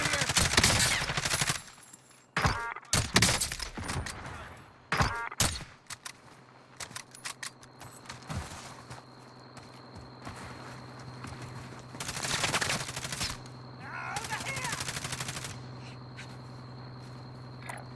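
Bursts of automatic gunfire crackle in Call of Duty Warzone, with loud, rapid rattling volleys and scattered single shots, then quieter stretches filled with steady insect-like ambient chirping.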